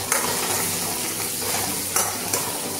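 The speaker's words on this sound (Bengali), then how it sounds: "এখানের মধ্যে ফ্রাই দেব" Onions sizzle steadily in a hot pan while a utensil stirs them, giving a continuous frying hiss broken by a few scraping clicks against the pan.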